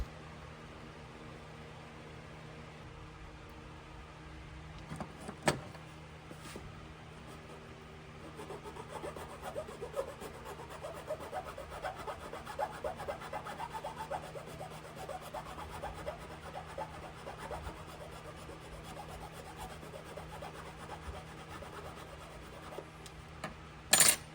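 A filler piece for a Bosch Bulldog Xtreme hammer drill cord being shaved down by hand, steady quiet rasping strokes repeating over a faint background hum, with a few sharper knocks.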